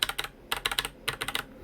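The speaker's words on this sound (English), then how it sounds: "this is what a mechanical keyboard should sound like." Keys on a mechanical gaming keyboard clack in three quick bursts of sharp, bright clicks, close and clear with short pauses between.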